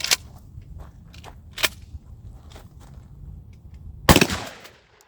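A Mossberg 500 shotgun fires test rounds, with sharp loud reports spaced irregularly, a couple of fainter shots, and a final heavy blast with a long ringing decay near the end, outdoors and without talking.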